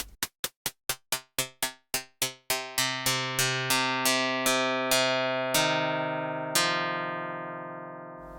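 Copperhead synthesizer for iOS with noise in self-oscillation mode: a string of resonant pinged tones, fast at first then slowing, each ringing pitched note decaying longer than the last, clean and alone.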